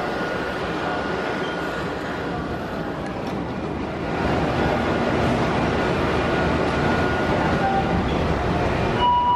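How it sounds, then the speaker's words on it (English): A Montreal metro MR-63 train rumbles into a station, its loud, steady roar swelling midway, with a faint high squeal near the end. "The MR-63 train showed up, shorter than usual."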